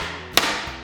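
A single sharp metallic strike from a planishing hammer on sheet metal in a home garage metal-shaping workshop, one clear close hit over quiet room tone.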